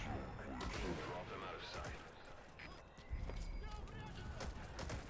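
Gunfire rings out in the Metal Gear Solid 5 video game, bursts of shots crackling through busy game noise while voices talk over the action.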